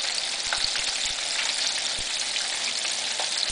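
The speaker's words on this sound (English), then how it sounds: "old way of frying chicken," Southern-style chicken pan fries in oil, a close, continuous crackling sizzle with scattered sharp pops.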